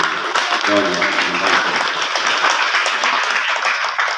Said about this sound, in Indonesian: Kita beri aplaus untuk ini.